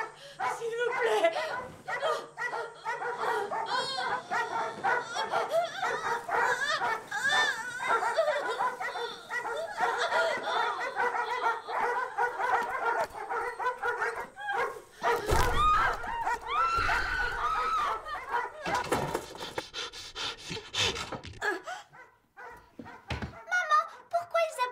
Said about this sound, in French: Pourquoi ils aboient les chiens?